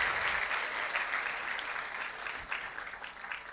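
Crowd applause at a Dubai awards event honouring Gulf top students, steady dense clapping that carries on throughout, fairly loud and close, with no voices over it.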